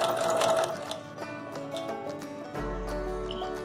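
A sewing machine runs steadily as it stitches a slippery satin dupatta, a close, even mechanical whir with faint rhythmic ticking and no talk.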